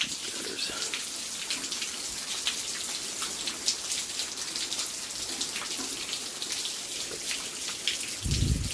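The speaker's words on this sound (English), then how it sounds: "And it's a very cold, rainy night outside." Steady rain falls on a cold winter night, a dense continuous hiss of drops pattering on surfaces with scattered sharper splats, heard from a moving vehicle, with a brief low rumble near the end.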